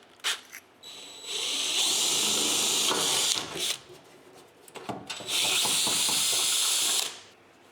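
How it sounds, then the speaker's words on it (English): A drill bores a hole through a car's firewall during a Vintage Air climate-control installation, heard as two sustained, loud, hissing grinding bursts separated by a short pause, with no talk. "Drill another hole."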